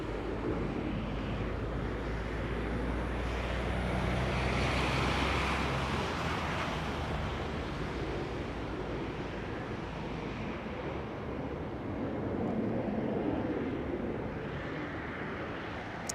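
A Boeing 767 departing Amsterdam Schiphol gives a broad, distant jet roar that swells and then slowly fades, mixed with wind noise on the microphone.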